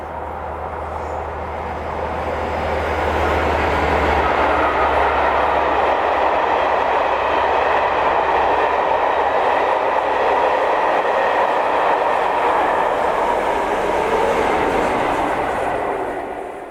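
A rail tour train, top-and-tailed by Class 57 57313 Scarborough Castle and Class 47 47813, runs past Cockwood Harbour. A low diesel drone swells into a loud, sustained rolling rumble of passing coaches, then eases off slightly at the end.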